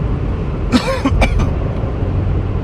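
A couple of short, raspy coughs rise over a steady low background rumble, close to the listener.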